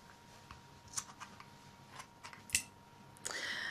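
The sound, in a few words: trimming silk string end with scissors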